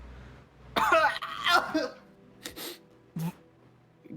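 A sudden sneeze bursts out indoors, sharp and close, followed by a couple of shorter snorts or throat-clearing bursts over faint background hum.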